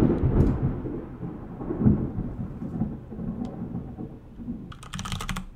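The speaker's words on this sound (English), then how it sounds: "it was because there was thunder right outside my window" Thunder rumbling right outside a window, a low rolling roar throughout the clip with a heavier swell near the middle, near and fairly loud, alone without talk, ending with a burst of light clicking.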